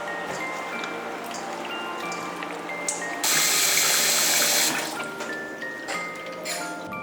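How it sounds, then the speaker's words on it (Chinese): Oysters are rinsed under a running kitchen tap, a steady close stream of splashing water that swells louder and brighter for a couple of seconds midway as hands move the shells. "我 先把生蚝洗一下，再加一点生粉洗一下。"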